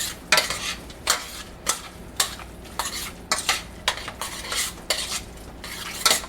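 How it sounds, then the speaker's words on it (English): Food sautéing in a pan is stirred with a utensil, giving repeated scraping and clinking strokes at an irregular rhythm over a soft background sizzle, close and alone. "we're going to let this saute and cook for at least 5 minutes"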